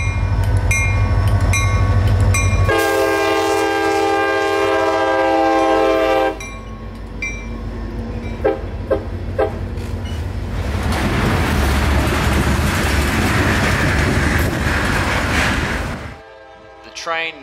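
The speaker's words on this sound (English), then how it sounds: "The train now creeps into downtown Palmetto, where their final switch resides" A loud train horn blasts for several seconds, then a freight train rumbles past close by in downtown Palmetto, Florida, with rattling cars and a second horn sounding near the end.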